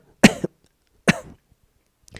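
Two sharp coughs from someone irritated by tobacco smoke, spaced about a second apart, close and clear against silence, followed by a faint trailing sound.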